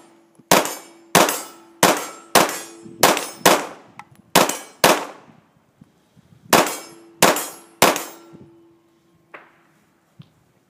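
A string of about a dozen 9mm pistol shots at a range, each sharp crack followed by a ringing metallic clang from steel targets, fired in quick rhythmic bursts with a pause midway and a fainter final hit.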